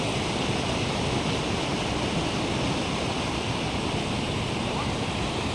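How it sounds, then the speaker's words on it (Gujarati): Narmada canal water rushes into Dantiwada dam with a loud, steady broadband roar that stays constant throughout, like heavy surf or a waterfall, with no pauses. "તો જોઈ શકો છો મિત્રો જોરદાર સ્પીડથી પાણી આવી રહ્યું છે"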